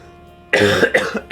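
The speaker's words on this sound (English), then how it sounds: "I will cough a lot." A person coughs close up, two or three harsh bursts in quick succession after a brief quiet moment.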